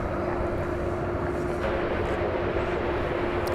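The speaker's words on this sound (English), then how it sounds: "As in the foreground, we see a UPS 767." A UPS Boeing 767 cargo jet at DFW Airport gives off a steady, loud engine roar with a faint sustained tone running through it, with no talking.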